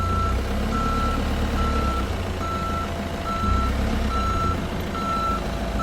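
A forklift backs up on a driving-test course, its reversing alarm beeping in a steady, evenly spaced series over a constant engine drone, close and loud, with no one speaking.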